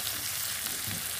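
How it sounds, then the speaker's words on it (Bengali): Okra and potatoes sautéing in a pan with salt, turmeric and chili powder, giving a steady, soft sizzle that runs throughout without pause. "এবার 2 মিনিট আমি এটাকে কষিয়ে নেব।"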